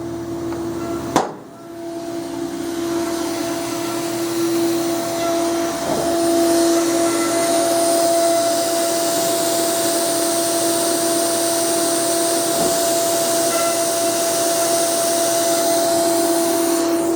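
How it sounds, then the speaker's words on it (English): A metal milling machine runs steadily in a workshop, a loud continuous whine with a steady tonal hum that starts with a sharp knock near the beginning and holds constant throughout, with no talking. "Using the mill is a really expensive joiner right now."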